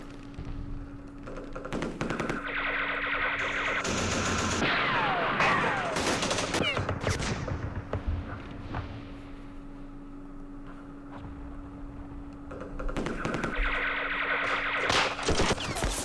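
Bursts of gunfire from the Campaign Series Vietnam wargame during the Dien Bien Phu battle, with rapid machine-gun rattles and shots in dense clusters separated by brief lulls, loud and close throughout.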